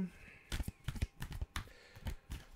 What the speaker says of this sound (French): Et je vais tirer une dernière carte.